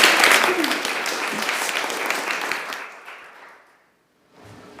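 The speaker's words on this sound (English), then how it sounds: "Yes, a round of applause." Audience applause at a university network's spring symposium, a dense, loud clapping that fades toward the end, drops to silence, then briefly resumes.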